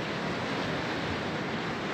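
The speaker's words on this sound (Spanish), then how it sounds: "aquí se puede apreciar el oleaje que está registrándose aquí en Bahía de Banderas" Ocean surf pounding the shore of Bahía de Banderas at Nuevo Vallarta during Hurricane Willa, a steady, dense roar of breaking waves mixed with wind rush, loud and continuous with no talking.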